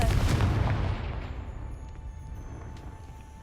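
A Confringo blasting spell from Hogwarts Legacy erupts in one loud, booming explosion that rolls off into a fading rumble over a few seconds.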